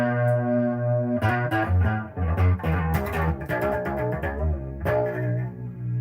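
Sustained bass guitar notes and a melodic line through a Joyo chorus pedal, shimmering and doubled, played alone with a warm, wavering tone.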